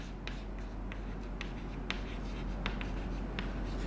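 Pen or marker writing on paper or a board while working a math exercise, a quiet continuous scratching with short sharp strokes and taps over a steady low background hum.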